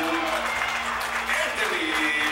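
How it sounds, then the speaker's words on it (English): Fans at a wrestling show applauding the wrestlers after a time-limit draw, a short burst of steady crowd clapping with a voice talking over it. "Fans are giving a big round of applause for Anthony and Shane."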